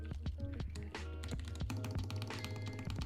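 Rapid, crisp clacking of keys typed on a TYL Volcano 660 gasket-mount mechanical keyboard with GMK Penumbra keycaps, close and bright, dense bursts of keystrokes over a low steady background.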